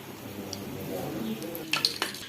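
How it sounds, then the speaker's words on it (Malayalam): Cut cake dough dropped into hot coconut oil and frying, a soft steady sizzle with a few clinks of a utensil against the pan near the end. "എണ്ണ നന്നായിട്ട് ചൂടായിട്ട് ഇതിങ്ങനെ എണ്ണയിലോട്ട് ഇട്ട് കൊടുക്കാം"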